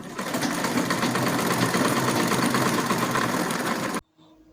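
A sewing machine stitches a fabric sleeve seam in a steady, close mechanical whir with rapid needle clatter, running continuously before stopping abruptly.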